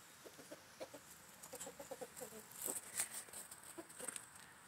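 Soft rooster clucks come in a loose series of short calls, moderately faint. Faint background noise runs throughout.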